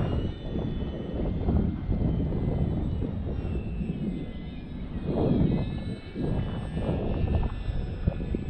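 An Xfly Tasman RC model airplane flies a go-around on a sunny day, its steady motor whine holding level for several seconds and swelling briefly as it passes close, then continuing without a break.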